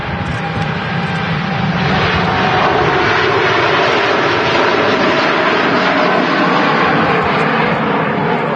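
Jet airliner departing Manchester Airport, a loud, sustained engine roar that holds steady and rumbles on for several seconds at fairly close range, with no voices over it.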